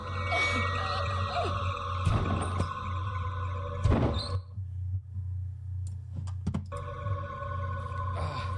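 High, sustained electronic ringing tones from The Wolf Among Us, an ear-ringing effect held over a low hum, briefly broken by sharp noisy bursts before the tonal drone returns.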